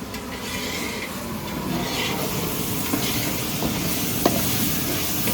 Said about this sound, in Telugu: ఉల్లిపాయలు మగ్గిపోయినాయి, అల్లం వెల్లుల్లి పేస్ట్, కొంచెం పుదీనా కొత్తిమీర అయితే వేసారు